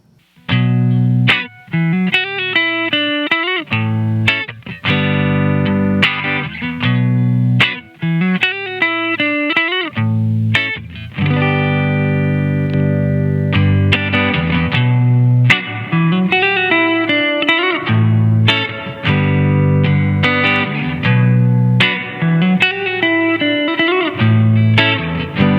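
Electric guitar played through an MXR M300 reverb pedal, with a series of plucked notes and chords that ring out with spacious, lingering reverb tails and a slightly distorted tone, continuous and up close.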